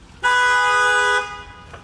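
A neighbor's car horn gives one steady honk lasting about a second, loud and nearby, then cuts off into quiet background.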